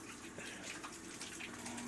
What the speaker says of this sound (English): so wash your hands. With hot water.